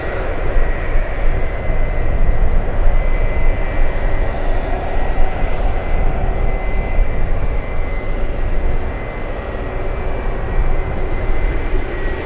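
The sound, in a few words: Boeing 757 jet at San Francisco airport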